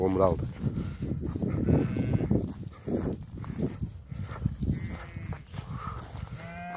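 A large flock of sheep on a farm bleats and calls in overlapping voices, some loud and close, others farther off, with continuous animal noise filling the scene.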